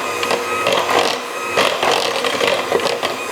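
Orange yogurt cake batter is mixed, likely by machine, producing a loud, continuous whirring and rubbing churn with small rhythmic surges throughout and no talking.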